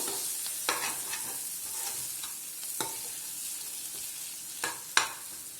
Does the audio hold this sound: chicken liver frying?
yes